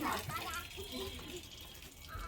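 Water pours steadily and faintly from a household tap, a soft continuous splashing under the voices of people and children talking nearby.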